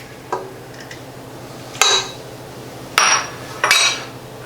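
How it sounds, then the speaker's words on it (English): Three eggs cracked into almond biscotti dough: four sharp clinks and taps, each followed by a brief rattle, spaced about a second apart in a quiet kitchen. "Now we'll add our 3 eggs."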